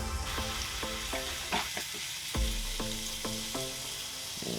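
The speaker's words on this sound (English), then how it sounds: "I already hear that bacon cooking. It's sizzling." Bacon sizzling as it fries on a Chargriller Gravity Fed 980 grill: a steady, crackling hiss with occasional pops, heard alone, with some faint clinks of tonal metallic tapping over it.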